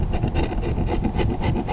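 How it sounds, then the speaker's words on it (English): A chisel scrapes twenty-year-old sealant off a catamaran window frame in repeated close, rasping strokes, each a gritty scratch in a steady back-and-forth rhythm. "What I do is I scrape it as clean as I can with a chisel."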